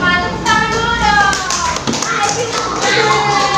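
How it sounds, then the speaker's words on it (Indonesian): Children clapping in a classroom, loud close rapid hand claps in a rhythmic pattern filling the whole moment, with kids' voices chanting along over the claps. "Tepuk tangan dulu dong."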